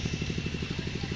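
Bajaj Pulsar NS motorcycle engine, NS 200 against NS 400, running hard in a tug of war, a steady pulsing low throb with rapid even firing beats, loud and continuous, with crowd noise underneath.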